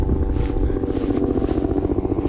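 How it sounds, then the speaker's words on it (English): A helicopter flies over a lake in Utah, its rotor thudding in a fast, even pulse with a loud, close engine whine, steady for a couple of seconds and heard alone. "Here comes a helicopter."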